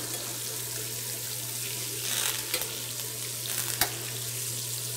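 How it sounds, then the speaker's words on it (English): Thyme sizzles and pops in butter on grouper being oven-roasted with lemon slices, a steady close frying hiss under a low mains-like hum, with a few soft crackles and one sharper pop. "You can kind of hear that thyme popping."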